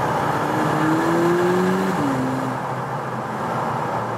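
Interior view of a 2022 VW Polo GTI facelift accelerating: a low engine drone rises in pitch through the gears under a broad, steady road roar, fairly loud and with no voices.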